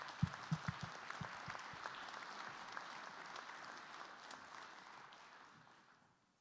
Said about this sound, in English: Please join me in giving Chris and the TAC a round of applause.